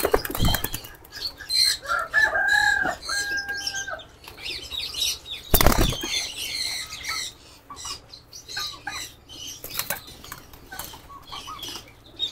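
Racing pigeons in a loft flap their wings in sharp bursts, with one loud, close flurry midway, among scattered coos, squawks and shuffling, and no talk.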